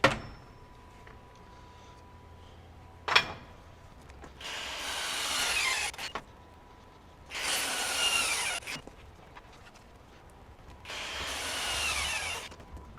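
A Hercules HCB85B brushless impact wrench tightening a bolt, firing in three separate loud rattling bursts of a second or two each, with a sharp click before the first and quiet pauses between them.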